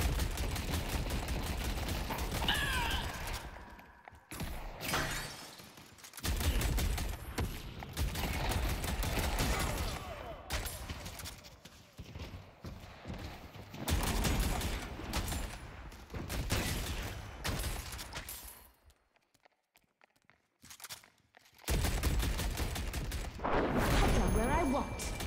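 Gunfire in the Valve video game Deadlock, playing Vindicta, loud sustained bursts of rapid shooting broken by a few pauses and one near-silent stretch, with a voice speaking intermittently over the action.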